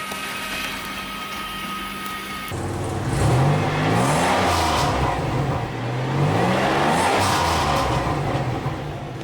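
Supercharged car engine, a V8 idling smoothly without rattle after a repair, then revving up twice in rising and falling sweeps, close and loud with no voices.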